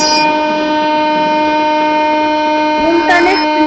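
A Bangladeshi train in a video game, running at about 32 speed with a steady, loud tonal drone and a brief horn-like burst near the end.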